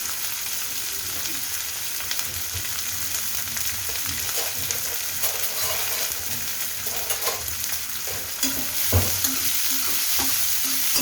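Onion, green chili, fresh coriander and curry leaves sauté in hot oil with cumin and mustard seeds, a steady close sizzle broken by scraping stirs and a few louder clatters of the spoon against the pan.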